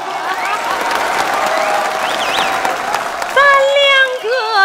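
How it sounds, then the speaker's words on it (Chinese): Audience applause on a televised Chinese opera stage show: a steady, dense wash of clapping throughout, with a voice rising over it near the end. "掌声在哪里？"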